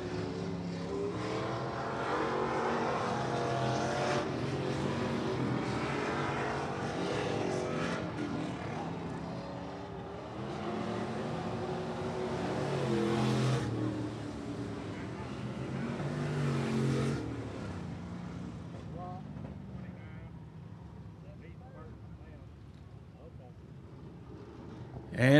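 Hobby stock division race car on a qualifying lap at Rockcastle Speedway, its engine a steady, loud roar that swells around mid-clip and then eases off as the car moves farther away.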